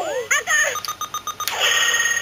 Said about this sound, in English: The lights and the sound will start to beep faster.